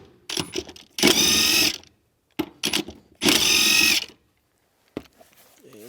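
Two long bursts from a power tool spinning out 14 mm bolts beneath the seat of a 2001-2007 Toyota Highlander, each lasting under a second, up close and loud, with short clanks and handling noises between them.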